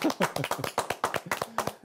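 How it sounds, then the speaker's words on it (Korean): Several people clap their hands in a quick, lively burst of applause, close by and steady for a couple of seconds. "박수 한번 치겠습니다."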